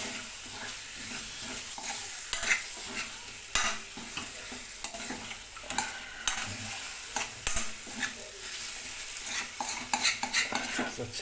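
Katla fish pieces being mixed with masala in a pan, with steady stirring, scraping and light clinks of a spoon against metal over a soft sizzle, continuous and close, with no voices.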